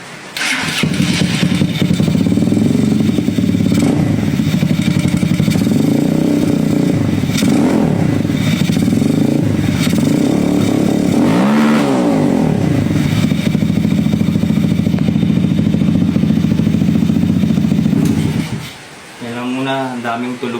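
A motorcycle engine on stock valve springs, loud and close, runs steadily for about eighteen seconds with repeated revs rising and falling, then drops away as a voice speaks at the end.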